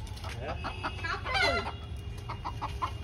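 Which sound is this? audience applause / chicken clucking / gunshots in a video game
chicken clucking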